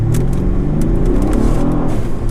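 A 2014 Ford Taurus SHO with a newly installed high-pressure fuel pump running E30 fuel pulls away, a loud, steady engine drone and road roar close by, with no talk.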